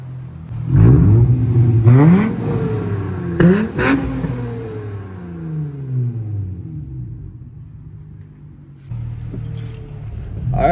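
Sharp throttle blips from a six-speed third-generation Acura TL fitted with a Black Widow muffler and dual tips, several quick revs at the start that fall back to a rumbling idle, then another rise near the end.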